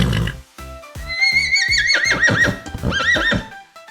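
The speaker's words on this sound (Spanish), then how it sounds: "Esto es un caballo." A horse neighs and whinnies in a loud, close, wavering call that rises and trembles, with light hoof-like knocks at the start.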